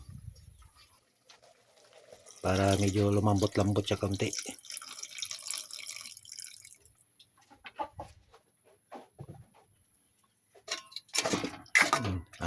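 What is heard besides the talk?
adding water to cooking adobong posit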